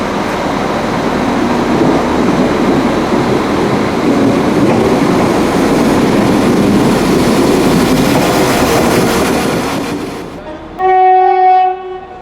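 A train arriving at a station platform on an Irish railway, a service bound for Great Victoria Street, rumbles and clatters loudly along the track for about ten seconds, then fades, followed by a short, sustained blast of its horn.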